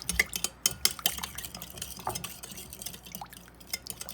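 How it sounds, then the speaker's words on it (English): Sugary sauce stirred briskly in a bowl, with a fast run of close clinks and scrapes of a utensil against the sides and faint liquid sloshing. "So you do want to stir this up pretty good and then taste test it"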